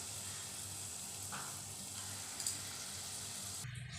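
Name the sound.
banana wheat flour gulgule frying in oil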